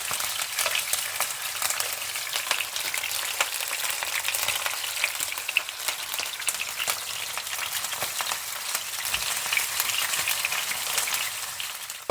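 Salmon cutlets browning in a hot pan for a fish curry, giving a steady, close crackling sizzle with dense spitting pops that holds evenly throughout, with no voices.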